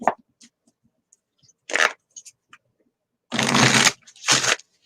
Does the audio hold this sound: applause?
no